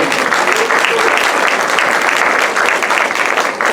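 An audience at a film screening and panel event for organic and regenerative agriculture claps loudly and steadily, dense applause sustained throughout.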